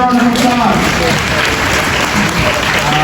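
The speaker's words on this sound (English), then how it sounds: "Give me a round of applause." Applause from an audience at a Canada immigration seminar, a short burst of clapping with voices mixed in underneath and some tonal sound running alongside.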